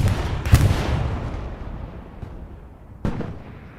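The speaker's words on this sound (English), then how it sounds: "Strafing run comes in," Explosive blasts and gunfire from a strafing run in a World War II video game match on the Carentan Night map: two sharp bursts with rumbling decay, fairly distant and moderate, with no voices.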